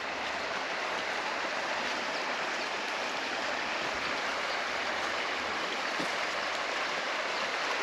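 The East Fork River flowing past old oak trees, a steady broad rush of moving water heard close and continuous, with no voices over it.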